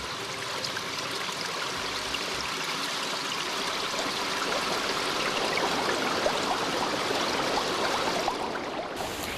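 A river rushes steadily with a dense, continuous roar of flowing water. It is moderately loud and unbroken, with no voices.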